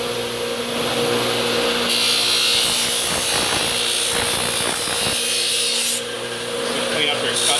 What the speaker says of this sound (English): Just going to use a wire wheel.